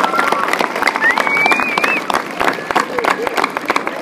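An audience applauds school staff, the principal and administrators, at a Blackfoot Bronco unveiling event, steady clapping mixed with crowd noise and a whistle over about four seconds.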